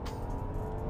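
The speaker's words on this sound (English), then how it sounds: "Foot on the brake, foot on the gas, and take off." A 2018 Rolls Royce Phantom, rear-wheel drive, pulls away hard from a standstill, its engine giving a steady, loud, dense low roar that carries through the whole second.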